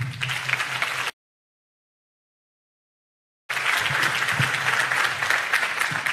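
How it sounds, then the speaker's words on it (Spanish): Loud applause from a gathering of health-sector workers in Venezuela, dense clapping that cuts out briefly into silence midway and then resumes just as strongly. "para ustedes un aplauso muy grande"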